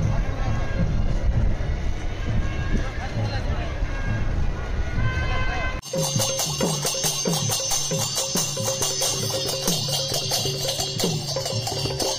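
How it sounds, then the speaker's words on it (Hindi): A crowd gathers at the Rath Yatra chariot festival in Nabarangpur, a loud continuous hubbub of many voices and movement that switches partway through to a rhythmic, music-like pattern of repeated beats, with someone talking over it. "धीरे धीरे भीड़ बढ़ रही है"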